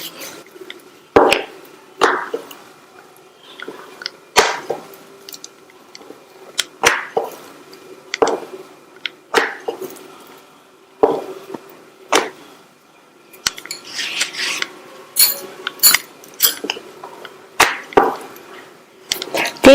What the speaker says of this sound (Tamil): மாவுல பெரட்டிட்டு ரவுண்டா தேய்ச்சிடலாம்